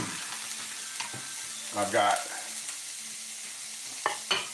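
Onions sizzle in a frying pan with a steady faint hiss, while a couple of louder scraping stir bursts and clinks come and go and someone speaks briefly.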